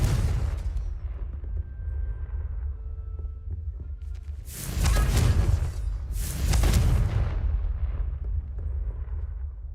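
Confringo explosive spell cast in the Hogwarts Legacy video game, two loud booming blasts a couple of seconds apart over a low rumbling background.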